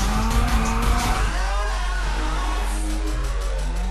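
A Nissan 240SX drifts in the racing game Need for Speed Shift 2, its tires squealing in long wavering screeches over a loud, revving engine, close and continuous.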